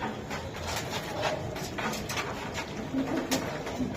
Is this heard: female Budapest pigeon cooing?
yes